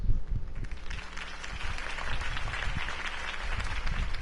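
Steady applause from a sizable crowd fills the space in the video game Batman: The Telltale Series, a continuous wash of clapping that swells slightly toward the end.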